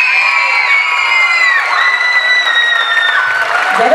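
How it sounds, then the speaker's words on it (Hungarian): Audience applause mixed with cheering and whistles at a dance group's Mary Poppins stage performance, a steady, fairly loud crowd sound lasting throughout. "Úgyhogy szólítanám a színpadra nagy taps kíséretében Nagyné Bognár Alexandrát!"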